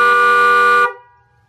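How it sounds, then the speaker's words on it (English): A car's original factory horn gives one loud, steady honk close by, lasting under a second before cutting off sharply into quiet. "I'll show you what the original horn sounds like."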